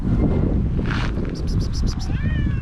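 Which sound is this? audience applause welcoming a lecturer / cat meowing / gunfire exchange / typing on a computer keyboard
cat meowing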